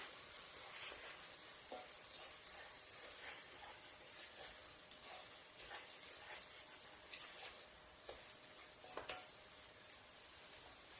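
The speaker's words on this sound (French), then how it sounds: "On ajoute donc les épices, donc le cumin, le curry. Je remue bien le tout, je mélange bien." Chickpea curry stirred in a pan after cumin and curry powder go in, with a steady close sizzle and hiss throughout, broken by repeated light scrapes and taps from the stirring utensil, and no talking.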